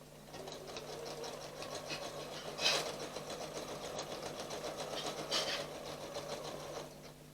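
A sewing machine with a walking foot running steadily while top stitching, a continuous close rapid mechanical whir with slight swells in speed, no talking.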